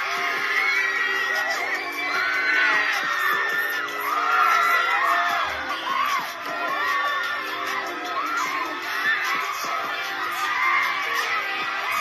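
A dense crowd of fans at Edmonton airport shouts, cheers and screams continuously, high excited voices and whoops layered together at close range for the whole stretch.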